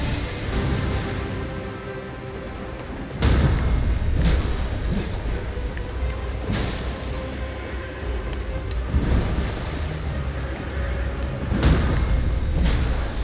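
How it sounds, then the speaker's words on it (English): Heavy cannon blasts from a boss's second phase in the Elden Ring video game, deep booming impacts at about 3, 6.5, 9 and 11.5 seconds over a steady rumbling game score, loud and close. "Bigger cannon."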